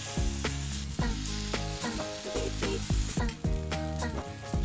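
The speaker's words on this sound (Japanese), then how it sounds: "フライパンに油を引き、生地を入れて丸い形に整えます" Semolina dough for suji nasta frying in an oiled pan, a steady close sizzle under a repeating low pulsing rhythm with a few sharper clicks, and no one talking.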